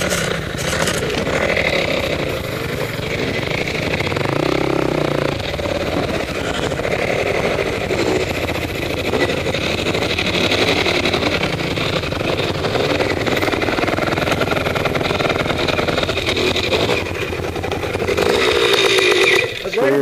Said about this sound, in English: Just a tractor.